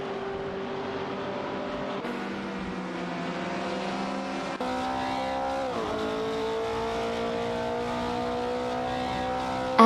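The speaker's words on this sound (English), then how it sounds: "some thrilling AI race car action" Several race cars in an AI-driven racing video game roar together with a loud, continuous engine drone, whose pitch rises and falls as they shift gears and accelerate, with engine tones sliding past one another.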